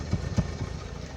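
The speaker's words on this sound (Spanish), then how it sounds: "Acá podemos sentir en el escape el fallo de combustión." A Renault Clio Mio idles with a combustion misfire, heard at the exhaust: a low, steady engine rumble broken by uneven thumping pulses, close up with no voices.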